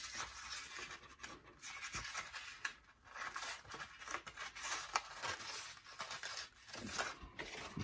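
Scissors snip through paper for a bird of paradise paper flower, a series of soft, irregular close-up cuts, scrapes and rustles at low volume with no talking.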